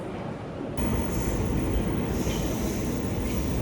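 Riding a London train toward Leicester Square, a steady loud rumble and wheel roar on the rails, rising in intensity and then continuing as a dense, unbroken clatter until it cuts off, with no voices.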